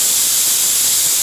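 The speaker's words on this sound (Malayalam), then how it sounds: "നമ്മുടെ കുക്കറിൽ 3 വിസിലായി." Steam hisses steadily and loudly from a pressure cooker's whistle while ghee rice cooks, a close, continuous rush of noise with no talking.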